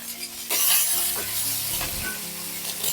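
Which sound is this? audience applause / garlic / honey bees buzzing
garlic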